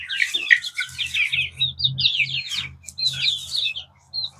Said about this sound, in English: let you enjoy the last few minutes of listening to chickens